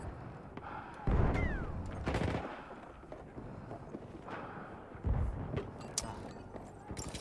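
Gunfire in the video game Battlefield 1 comes as a few heavy, booming shots and short bursts at moderate distance, with a brief whistling swoop, spaced irregularly over several seconds of ambient battle noise.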